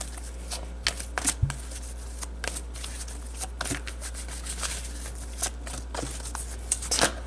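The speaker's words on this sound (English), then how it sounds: "So let's pull some romance angel cards." Romance angel oracle cards being shuffled by hand, close-up, as a run of soft riffling flicks and taps with small pauses between, no speech.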